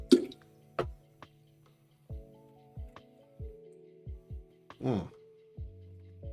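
Water rinses a drinking glass in short bursts, a series of distinct splashes, plops and drips near the microphone, separated by quiet pauses and a faint background hum.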